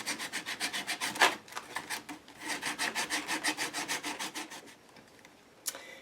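A sanding block rubs over paper wall art on a board book page in quick, rhythmic back-and-forth strokes, faint and close, pausing briefly partway and ending with a single last scrape.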